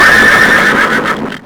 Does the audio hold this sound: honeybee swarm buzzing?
no